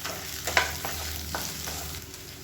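Onions and tamarind sautéing in a pan give a continuous bright sizzle with a few soft stirring scrapes, close and moderately loud, no voices.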